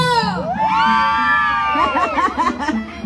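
A crowd of women at a Peruvian event in Huancavelica lets out a loud, sustained group shout, with high voices rising together and breaking into scattered shrieks and laughter toward the end.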